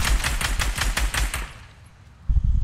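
Rapid automatic gunfire in a squad shooter video game, a loud, close, evenly spaced burst of shots that cuts off and leaves a quiet tail before another brief burst starts.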